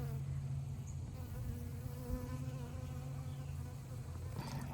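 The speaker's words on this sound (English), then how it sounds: "There's a honeybee over here too." Honeybee buzzing steadily close by in a late-summer garden, a continuous low drone holding for several seconds with slight wavering as it hovers, no voices.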